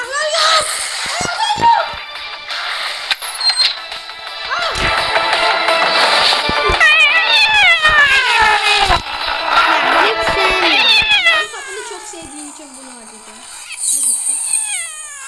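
Cartoonish cat meows and yowls from the game Keys, repeated in quick bursts over busy electronic sounds and effects.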